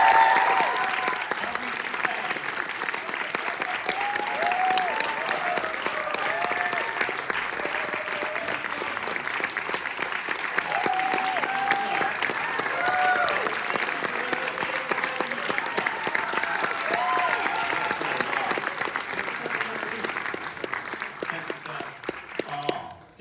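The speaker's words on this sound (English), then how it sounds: "keep that applause going" Sustained audience applause at the European premiere Q&A for Alien: Earth in London, a thick, continuous roar of clapping from a large crowd that holds steady throughout, with some talk faintly mixed underneath.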